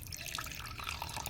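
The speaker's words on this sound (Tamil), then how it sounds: "சூடான கடாயில கொஞ்சமா இப்படி தண்ணியை ஊத்தலாம்" A small splash of water is poured into a hot kadai pan, giving a close, continuous trickling and bubbling hiss with no voices over it.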